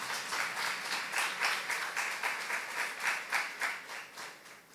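Applause from a church youth congregation giving thanks to God, a steady, moderately distant wash of many hands with a gently pulsing rhythm and no voices over it.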